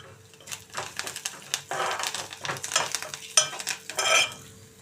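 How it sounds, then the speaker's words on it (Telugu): Curry leaves and dals frying for a spicy kaarappodi powder, with sizzling crackle and repeated scraping and stirring clatter in a pan, fairly close and steady, intensifying in short bursts without talk. "ఇప్పుడు 3 రెబ్బల కరివేపాకు కూడా దీనిలో వేసేసుకుందామండి."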